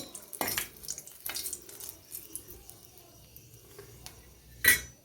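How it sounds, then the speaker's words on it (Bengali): Garam masala spices frying in a hot pan give a soft crackle and sizzle, with sharp metallic clinks and scrapes of a utensil against the pan, close and intermittent. "গরম মশলাটা দিয়ে পরে কিছুক্ষণ আমি ভেজে নেব যাতে গন্ধটা উঠে"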